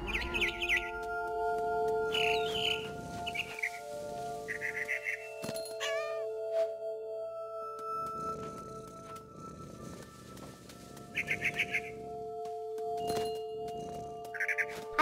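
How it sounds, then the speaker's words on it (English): Short bursts of high bird chirps repeat over a quiet tonal background, with a soft meow-like call in the middle, from the video game What Remains of Edith Finch. "Then I heard chirping outside my window."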